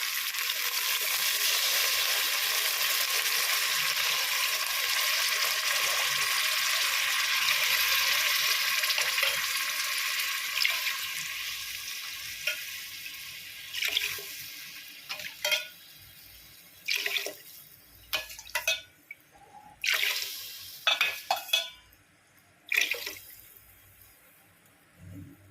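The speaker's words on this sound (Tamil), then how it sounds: "1 டம்ளர் அரிசிக்கு 2 டம்ளர் தேங்காய் பால் ஊற்றுவேன் நான்." Coconut milk poured over rice in a pressure cooker, a steady loud liquid rush at first that breaks into splashes, drips and clinks near the end.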